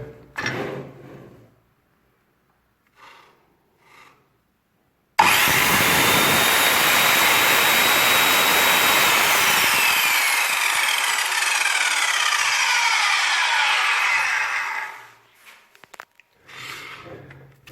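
An Evolution R210 multipurpose mitre saw, rated 3750 rpm, whirs up and runs loudly and steadily for about ten seconds before spinning down, with quiet pauses on either side.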